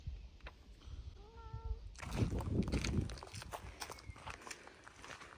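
A cat gives a short, clear meow, then shuffling footsteps and rustling follow close by.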